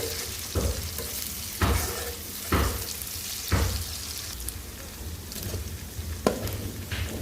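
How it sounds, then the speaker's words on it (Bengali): Shrimp frying with onion and garlic in a pan gives a continuous close sizzle, broken about once a second by the scrape of a spatula stirring the pan. "পেঁয়াজ রসুনের সাথে সাথে চিংড়ি মাছটাও ভেজে নিব"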